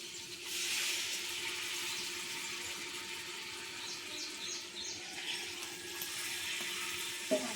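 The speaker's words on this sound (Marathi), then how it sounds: "थोडंसं पाणी घालूया गरम" Hot water poured into a pot of chicken with Malvani masala, a steady broadband pouring and splashing that runs for several seconds near the mic, with faint bird chirps in the background.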